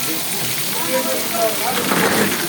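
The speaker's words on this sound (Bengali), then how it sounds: "না একটু ভিডিও করে লই বৃষ্টি যে হইতেছে" Steady rain hisses down across a surface, an even, close wash of sound with faint voices murmuring underneath.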